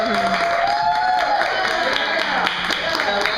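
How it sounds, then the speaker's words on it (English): Audience in a tavern clapping steadily and fairly loudly, a dense spatter of hand claps, with a voice talking over them throughout. "if I could just get you guys to all like start clapping really hard"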